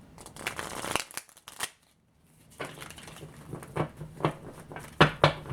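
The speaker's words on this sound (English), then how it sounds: "Ooh, this cards is getting so used." Light Seers tarot cards, a well-worn deck, are shuffled at close range in quick riffling bursts and rapid flutters, with a short silent break partway through and crisp card slaps near the end.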